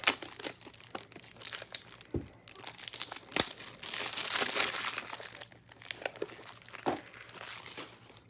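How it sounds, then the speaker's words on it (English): Crinkling, crackling plastic wrap as a pack of new top loaders is cut open, a series of irregular near crunches and tearing rustles. "Gonna cut some fresh top loaders out."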